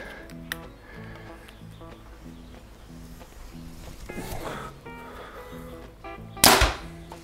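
A single arrow fired from a Backyardbows Whitetail Maxx crossbow gives a sharp, loud snap near the end, standing out above a low, steady outdoor background with faint ticking.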